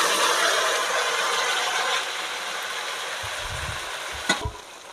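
Ground spices of ginger, cumin and green chilli go into hot oil with fried fish and potatoes: a bright steady sizzle that thins out, then a few low thumps and clinks of stirring near the end, no talking.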